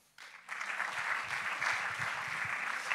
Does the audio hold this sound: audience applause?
yes